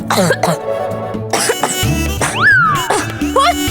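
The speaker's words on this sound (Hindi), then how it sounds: "अच्छा तो देखिए कैसे खांस रही हैं" A woman in a Maharana Pratap historical drama coughs repeatedly, mixed with other voices and a sweeping dramatic music cue, close and loud.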